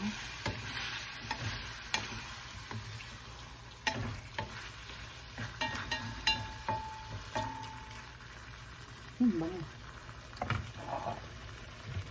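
Beef being sautéed in a pan for beef pares gives a steady close sizzle, broken by irregular scrapes and clinks of stirring, with no talking.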